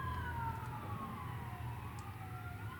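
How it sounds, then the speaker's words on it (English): Emergency vehicle sirens wail outside a military collectibles shop, a faint, distant rising and falling tone that slowly drifts downward over low traffic rumble. "I'll just wait for the sirens to stop."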